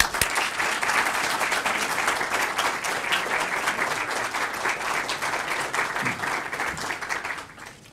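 An audience at a conference keynote claps steadily in dense, sustained applause welcoming retired USAF General Richard B. Myers, loud and even throughout before tapering off at the end.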